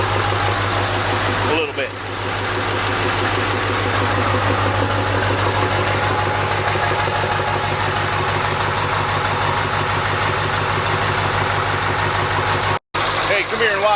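A 1946 Ford engine idles steadily while warming up, a continuous low rumble with even mid-range vibration running the whole time under occasional speech.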